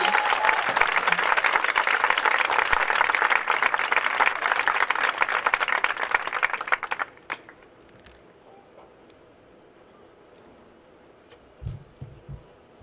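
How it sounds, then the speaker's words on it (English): Steady, full applause fills a high school varsity sports awards ceremony for about seven seconds, then drops abruptly to near silence with only a few faint knocks and rustles afterward. "let's give Jaden and our girls a round of applause"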